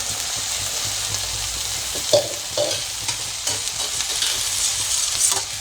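Arai keerai greens sautéed with a ground roasted paste and asafoetida in a pan, a steady hiss of sizzling with intermittent stirring scrapes and a few sharper knocks of the spoon, close and clear.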